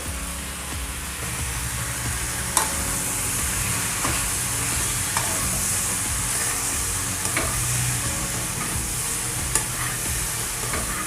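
Okra pieces fry in a pan with chilli powder and turmeric, giving a steady, close sizzle throughout with a few sharp clinks of a stirring spoon against the pan.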